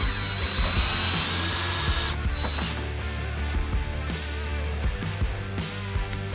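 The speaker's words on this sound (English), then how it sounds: "Nice long extension on your drill. Let's get those ones out." A power drill with a long extension whines steadily for about two seconds, then short bursts and mechanical clicks follow as fender bolts are backed out during a Metalcloak aluminum tube fender install, close and loud.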